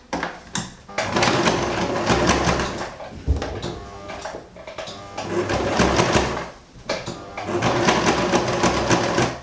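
Domestic sewing machine stitching textile in bursts: loud, close, rapid mechanical chattering runs of a few seconds each, broken by short pauses.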